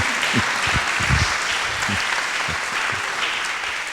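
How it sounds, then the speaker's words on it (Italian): A crowd applauding steadily at an Italian award ceremony, dense clapping filling the hall at an even, sustained level. "facciamo un applauso alla giuria però, per favore"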